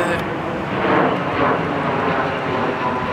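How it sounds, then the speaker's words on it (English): Broad, steady roar of an airplane flying overhead near Manchester Airport, swelling slightly and then holding, loud and continuous with no other sounds on top. "planes again, planes. I live right near an airport"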